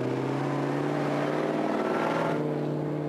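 A Russian jeep in the Gobi desert pulls away with a loud, close engine drone, its steady tone climbing slightly as it speeds off, with no voices over it.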